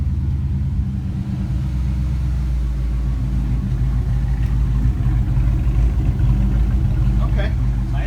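A rebuilt Fox Body Mustang 5.0 V8 idles steadily with a loud, deep, even rumble that stays constant close by, with people talking over it.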